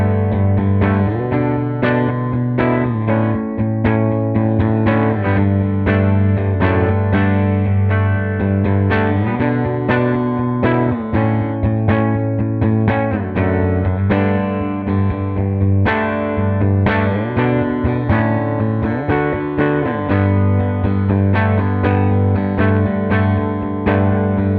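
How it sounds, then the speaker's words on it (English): Warm, overdriven electric guitar riffing from a P90-loaded Heritage H137 Les Paul-style guitar through a hand-made Marla tube amp, continuous with full low end and gritty crunch, loud and close, with no voices. "we're going to hear it with a Heritage H137, a P90 loaded Les Paul style guitar"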